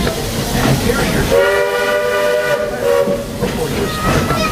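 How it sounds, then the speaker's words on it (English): Walt Disney World Railroad steam train pulling into the station, with a loud, sustained steam whistle blast in the middle over a steady background of rolling cars and hissing steam. "please wait until the train has come to a complete stop"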